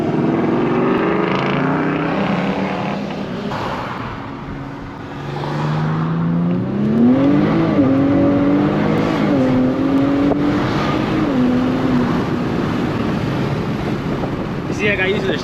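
Nissan Z sports car on a test drive, its engine note rising and falling through gear shifts as it accelerates, heard from inside the car with wind noise and talk over it.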